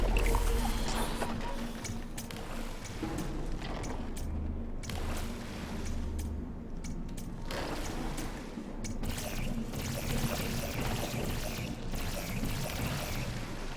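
Water pours and rushes steadily in Portal 2, a dense, continuous liquid wash that swells and thins in places and runs throughout without speech.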